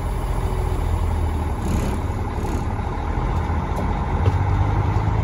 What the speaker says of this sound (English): Unloading a quick truck here before I head out.